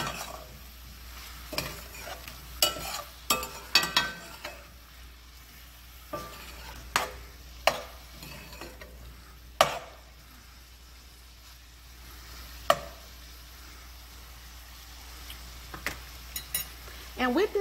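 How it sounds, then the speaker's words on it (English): Spiced shrimp frying in a pan under a soft steady sizzle while a utensil stirs them, giving scattered close scrapes and clinks against the metal. "We just want to make sure our shrimp cook really well. So I'm going to stir them occasionally"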